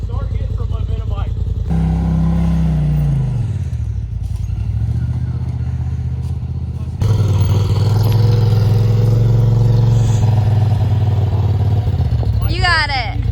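An ADV motorcycle revs and builds speed close by, its loud engine note climbing and shifting in pitch before surging harder partway through, with some clatter near the end.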